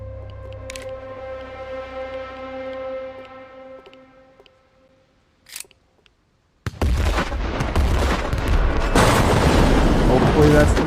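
Explosion destroying the Duggar in a video game: after a sustained harmonic drone and a quiet gap, a sudden loud broadband blast erupts and rumbles on heavily to the end.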